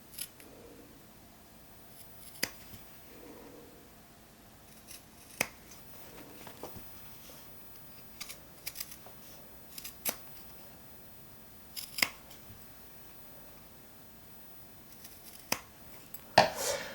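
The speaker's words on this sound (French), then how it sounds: "Et je continue à couper en m'approchant de la couture" Scissors cutting fabric for a jacket being sewn, a series of quiet, crisp snips spaced a second or two apart over a hushed room background, close and alone.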